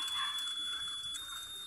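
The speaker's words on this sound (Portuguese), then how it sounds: "Ah, já tem alarme, gente." A fire alarm rings in The Sims 3 as a house fire breaks out, a steady high-pitched electronic tone held throughout at moderate level.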